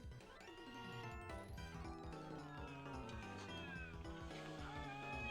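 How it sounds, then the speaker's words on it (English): A lynx calls with loud, wavering, yowling cries that rise and fall in pitch continuously, close and harsh like a caterwauling cat. "So, this is what a lynx sounds like."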